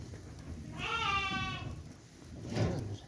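A single sheep bleats loudly nearby, a wavering cry lasting under a second, followed by quieter rustling and a brief second call.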